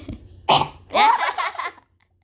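A dog gives a sharp, short cough followed by a longer raspy hacking burst, close by, with no talking.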